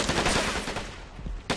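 Rapid automatic gunfire from a Men of War Assault Squad ranked 3v3 battle on a farmland map, a dense continuous burst of loud shots that eases briefly before a sharp final crack.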